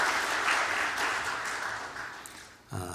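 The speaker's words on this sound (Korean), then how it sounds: "박수 한번 해주시기 바랍니다" A church congregation applauds during a Sunday worship service, a steady wash of many hands clapping at moderate distance that fades slightly before an abrupt change near the end.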